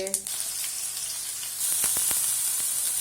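Mustard seeds, asafoetida and turmeric sizzle in hot oil while tempering for a cabbage and potato curry, a steady close hiss with a few sharp crackles and pops near the end.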